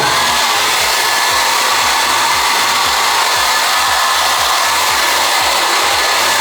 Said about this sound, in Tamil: ஹேர் ட்ரையர் எடுங்க